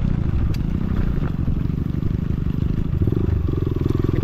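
A Kawasaki KLX140RF dirt bike engine runs close by on a forest trail ride, a steady, loud, low throbbing idle with light clattering and no speech over it.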